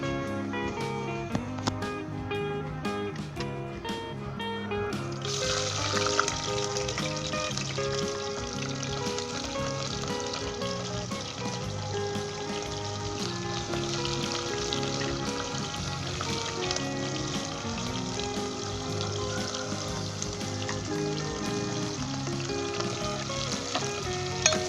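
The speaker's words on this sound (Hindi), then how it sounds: "अब सबसे पहले हम प्याज डालेंगे, उसे प्याज उसके बाद अदरक लहसुन डाल के उसे 5 मिनट के लिए हम फ्राई करेंगे" Onions, ginger and garlic fry in hot vegetable oil for a plum mutton curry, giving a steady, dense sizzle that crackles close up throughout with no pauses and no voices.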